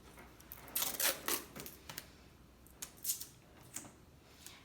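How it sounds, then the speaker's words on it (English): Medical tape being torn into strips while an IV insertion is prepared, heard as a run of short, crisp ripping bursts, close and fairly quiet, with no voices. "You can go ahead and tear your tape."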